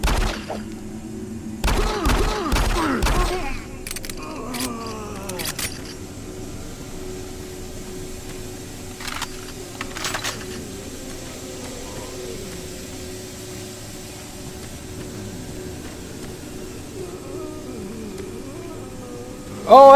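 Gunfire from the Doom 3 Lost Mission expansion: a quick burst of four or five sharp thuds near the start, then a few scattered single shots over a low, steady game ambience, with no talking.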